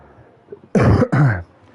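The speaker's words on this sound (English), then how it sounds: "Sorry for the cough." Two harsh, throaty coughs in quick succession, close and loud, after a moment of near quiet.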